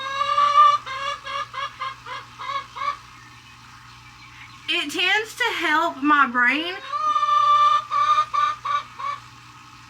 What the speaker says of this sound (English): this chicken